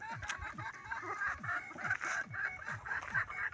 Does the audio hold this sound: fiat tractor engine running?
no